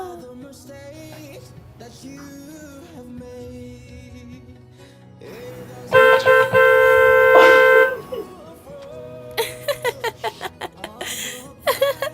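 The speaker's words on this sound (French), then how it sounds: "Ça klaxonne au portail." A car horn honks at a gate in a long blast and then a run of short rapid toots, set against background music and some light chuckling.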